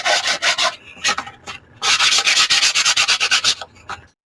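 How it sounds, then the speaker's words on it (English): A small sanding block rubs back and forth over the edges of altered book pages, a close, rhythmic dry scratching in quick bursts with short pauses between strokes. "I'm going to take my little sanding block."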